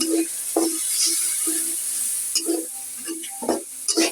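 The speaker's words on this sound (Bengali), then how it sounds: "আমার মশলাটা কষানো হোক।" Spice masala with a splash of water cooking down in a pan for an eggplant and koi fish curry, a soft sizzle with repeated scraping stirs at an uneven rhythm, close by.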